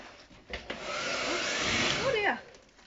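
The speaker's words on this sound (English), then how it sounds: "And you just connect it to your hairdryer" A handheld hair dryer with a bonnet-style hood attachment, like an old salon hood, blowing a steady broadband whoosh for about two seconds with a few handling knocks before and a brief squeak as it winds down, close and fairly loud.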